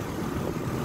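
A 2006 Chevrolet Trailblazer engine running at idle, a steady low rumble heard briefly and fairly quietly with no voices.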